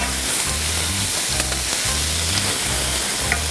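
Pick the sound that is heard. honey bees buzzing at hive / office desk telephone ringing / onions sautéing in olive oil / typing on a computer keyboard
onions sautéing in olive oil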